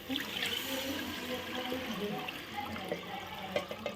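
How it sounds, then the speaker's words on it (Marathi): Lentil water poured into a hot pan of frying masala, a gurgling splash that settles into soft bubbling and trickling, heard up close. "आता आपण हे डाळीचं पाणी टाकू"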